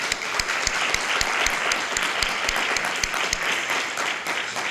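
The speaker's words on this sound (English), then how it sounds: "I kind of want to just give them a little round of applause." Audience applause at a school district board meeting, a steady wash of many hands clapping with a few sharp, close individual claps standing out, continuing for nearly five seconds.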